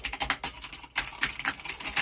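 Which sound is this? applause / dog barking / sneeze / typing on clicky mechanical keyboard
typing on clicky mechanical keyboard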